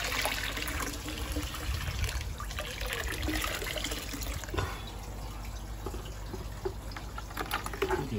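Water pours from a heavy bucket during a white spot treatment, a continuous moderate splashing and trickling stream with small drips that lasts the whole stretch, with no talking.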